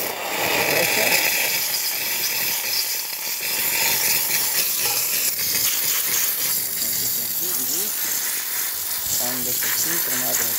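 A Rancilio Sylvia espresso machine, freshly fitted with a new water pump, hisses steadily from its steam wand, a broad continuous rush of steam filling the clip at close range with faint talk underneath.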